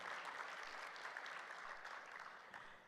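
Sustained audience applause at an African Human Resources Summit, a dense even wash of many hands clapping that holds steady and then fades slightly toward the end, with no talk over it.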